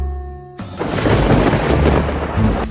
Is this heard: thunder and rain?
yes